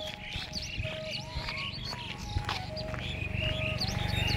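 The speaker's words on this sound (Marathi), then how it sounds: "पक्ष्यांचा सुंदर किलबिलाट चालू आहे." Birds chirping in a village, several short bright calls and twitters repeating near and far over a low steady background rumble.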